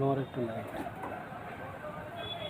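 Madrasi pigeons coo softly in a loft while someone talks over them nearly throughout, the low cooing half buried under his voice.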